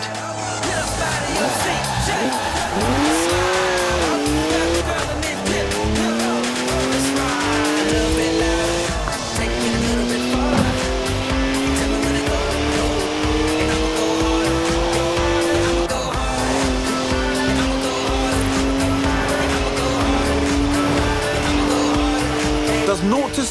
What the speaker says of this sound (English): 3-litre straight six, 335 horsepower, 2 turbos, as much sideways action as you like.